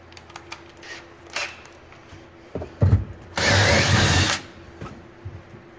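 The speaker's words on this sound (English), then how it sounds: "Let me get a real drill bit." A few knocks and handling clatter, then a power drill whirs loudly for about a second drilling a hole while wiring a pontoon boat, then stops, nearby.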